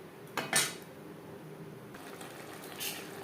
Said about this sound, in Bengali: হাই ফ্লেমে আরও তিন চার মিনিট নাড়াচাড়া করে নেব যাতে পেঁপের মধ্যে মশলার একটা ফ্লেভার আসে